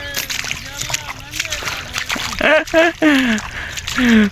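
Water diverted along an irrigation channel in a farm field splashes and sloshes in uneven bursts, louder toward the end, with people talking over it throughout.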